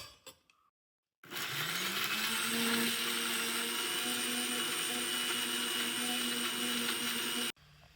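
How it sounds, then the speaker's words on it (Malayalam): Electric mixer grinder blending coconut, cumin and thick homemade curd in its jar for a mango pulissery, a loud steady whirring roar that starts abruptly after a brief quiet pause and runs continuously until cut off. "തേങ്ങ നമുക്ക് മിക്സിയുടെ ജാറിലോട്ടിടാം."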